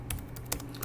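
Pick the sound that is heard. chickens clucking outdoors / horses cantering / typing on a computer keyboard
typing on a computer keyboard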